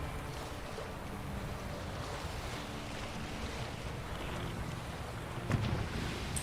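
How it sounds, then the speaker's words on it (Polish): Waves slosh against a small boat in the video game The Witcher 3, a continuous low rushing wash with wind, steady and moderately loud, with one brief heavier splash near the end and no talk. "jakieś fale w nas uderzają"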